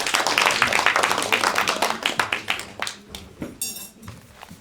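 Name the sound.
audience applause welcoming a speaker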